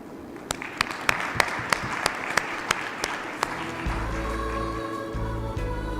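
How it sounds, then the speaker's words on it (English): Audience at a women's empowerment and MSME event clapping in sharp, spaced claps that fade after a few seconds into a steady tonal hum. "I must give a big round of applause to all the wonderful ladies here"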